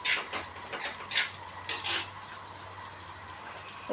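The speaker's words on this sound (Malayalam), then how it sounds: "അത് നല്ലപോലെ വഴറ്റിയെടുക്കണം." Ginger, shallots, curry leaves and garlic being sautéed in a pan for a Kerala sardine curry, with faint sizzling under a few sharp clinks and scrapes of a spoon against the pan.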